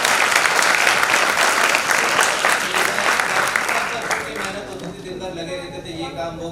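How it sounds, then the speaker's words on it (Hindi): Loud, dense applause from a theatre audience at Shaheed Bhawan in Bhopal after a play, sustained for several seconds and then thinning to scattered claps, with a voice faintly audible beneath. "इसके लिए प्लीज जोरदार ताली बजाइए"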